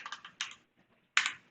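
Someone types quick keystroke bursts on a fancy computer keyboard while working in Vim, a cluster of clicks, a brief pause, then a sharper flurry of taps, close and crisp.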